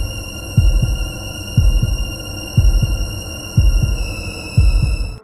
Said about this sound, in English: Her heart beat faster, and a creepy feeling spread throughout her body.